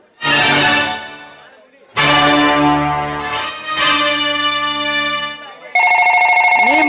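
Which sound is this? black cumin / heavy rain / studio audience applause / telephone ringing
telephone ringing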